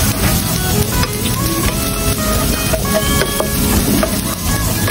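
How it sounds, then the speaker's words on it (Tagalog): Garlic and onion sautéing in a pan for Batangas-style tilapia pochero, a loud dense steady sizzle with scattered crackles and light stirring close by. "ginisa na po natin ang ating bawang, syempre yung sibuyas"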